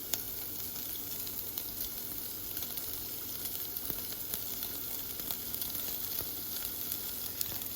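Crumbled tofu sizzling in a hot frying pan, a steady soft hiss and crackle with faint scattered pops throughout, fairly quiet and close.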